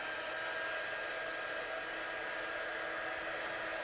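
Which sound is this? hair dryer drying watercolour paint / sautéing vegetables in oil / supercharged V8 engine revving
hair dryer drying watercolour paint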